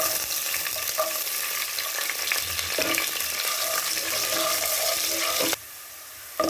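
Spices and garlic frying in oil for a Kumbakonam kadappa: a steady, close, hissing sizzle with faint stirring clicks that drops away sharply near the end.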